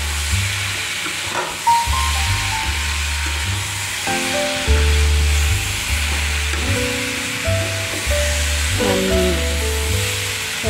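Pumpkin and potato fry in oil in a wok, a steady hiss and sizzle running throughout, with a droning tonal hum beneath it.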